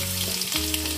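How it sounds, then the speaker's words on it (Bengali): Potatoes fry in hot oil in a home kitchen, giving a dense, steady, close sizzle throughout. "এবার ভেজে নেওয়া হচ্ছে আলু।"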